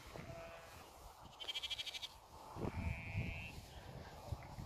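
Sheep bleat on an evening walk at twilight, a few calls heard at a distance over soft rustling and footsteps, with a faint rapid chirping burst in between.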